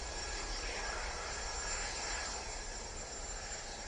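A Loganair airplane's engine roars steadily at Manchester Airport, a broad, continuous jet-like rumble and hiss holding at a constant level throughout, heard from some distance outdoors.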